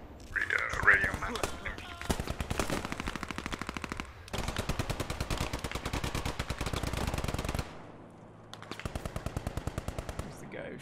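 Rapid bursts of automatic gunfire from the WWII shooter Post Scriptum, set on Hell's Highway, fire loud and close in long sustained volleys with short pauses between them.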